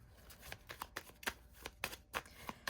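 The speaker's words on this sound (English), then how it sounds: "I'm going to reshuffle that and pull the cards." Tarot cards are shuffled close up and quietly, in a run of soft, rapid riffling bursts and flutters at an uneven rhythm, with no voice over them.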